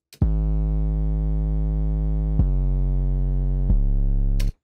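Deep, booming 808 bass notes with no EQ ring out in three long sustained tones, each sliding in with a bright attack and full, buzzy overtones.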